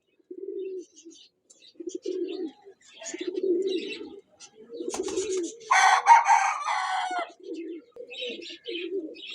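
High-flying parwazi pigeons kept at a pigeon club in Chishtian give repeated low, throaty coos close by, broken by a brief, louder burst of bird calling and fluttering midway.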